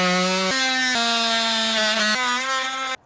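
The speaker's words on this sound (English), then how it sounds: "I've been trying to cut it with my multi-tool" A multi-tool buzzes hard against a steel window sill flashing during a rotten wooden window repair, giving a loud, steady high-pitched whine that shifts pitch a few times and stops abruptly.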